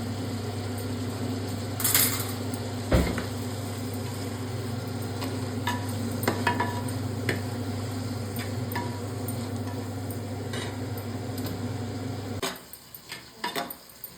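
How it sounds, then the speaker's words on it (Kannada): Tomatoes with salt being stirred in a pot on the stove, steady sizzling under scattered light scraping and clinks of the spoon, ending with a few sharper knocks as the cooking noise stops. "ಉಪ್ಪು ಹಾಕಿ ಚೆನ್ನಾಗಿ ಮಿಕ್ಸ್ ಮಾಡಬೇಕಾಗತ್ತೆ"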